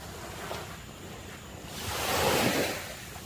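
Waves wash onto the beach of uninhabited Karamasan island, a shore strewn with plastic rubbish. The surf gives a steady roar with wind noise and swells louder midway, with no talk.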